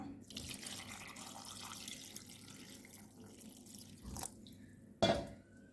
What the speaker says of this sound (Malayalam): ഇനി നമുക്ക് ആവശ്യത്തിനുള്ള വെള്ളം ഒഴിക്കാം